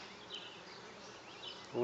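Bees buzz faintly and steadily around a hive, a soft continuous hum of many insects with occasional louder passes nearby.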